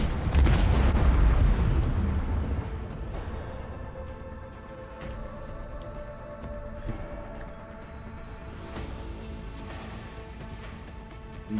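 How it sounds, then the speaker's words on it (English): Heavy macro cannon volley in the space combat video game Rogue Trader: a loud, deep rumbling blast that swells at the start, then settles into a sustained roar with scattered crackling bursts and ringing tones. "Macro cannon, volley!"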